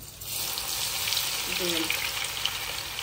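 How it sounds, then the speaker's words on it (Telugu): Garlic frying in oil for a tangy amla chutney, giving a steady, fairly loud broadband sizzle that runs the whole time without pause, with a faint low tone partway through. "ఎల్లుల్లిపాయలు కొద్దిగా అవి చట్పట్ చట్పట్ అన్నాక కొద్దిగా రెడ్ అయ్యాక"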